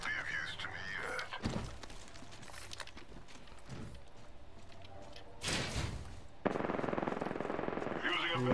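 Gunfire in the battle royale game Apex Legends, with rapid bursts of shots and sharp impacts, some loud bursts near the middle and end, over quieter game ambience and brief talk.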